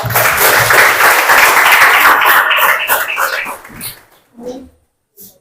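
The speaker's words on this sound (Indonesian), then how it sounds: "kita berikan aplaus" Classroom applause for a student group, a dense burst of clapping from many hands that lasts about three seconds and then thins out, followed by a few brief voices.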